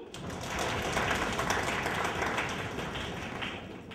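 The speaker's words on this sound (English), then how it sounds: "you stamp your feet and clap your hands." A live audience at a spoken word and performance night claps and stamps its feet together, producing a dense, steady roar of applause that holds for several seconds with no pause.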